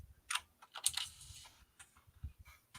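Typing on a computer keyboard during a writing sprint, a quick irregular patter of key clicks in short bursts, fairly faint and close, with no voices.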